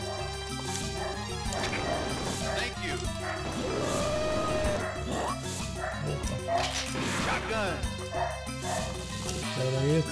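A dog barks and whimpers in short yips and bow-wows amid game sounds from Metal Slug 2, with the barking fairly close and repeated, overlapping a busy, music-like background.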